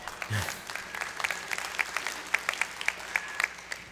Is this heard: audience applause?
yes